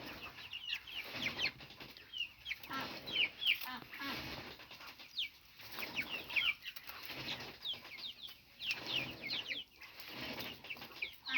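Chicks freed from a rabbit hutch forage along a fence in a damp farmyard, keeping up a stream of high peeps and soft clucks, some overlapping, with brief wing flutters at close range.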